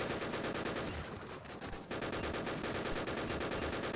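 Dense, continuous automatic gunfire in a Lego-style shooter game, rapid shots packed tightly together and loud throughout, with a brief dip in intensity midway before the firing resumes at full strength.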